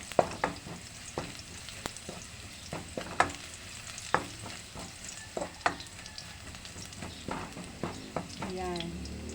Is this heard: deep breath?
no